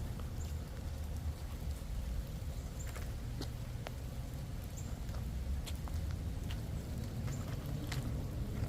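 Steady rain falls on a garden with mums and marigolds, a constant soft hiss broken by scattered louder drips and pattering drops close by, with no voices.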